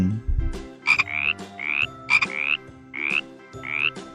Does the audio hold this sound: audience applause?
no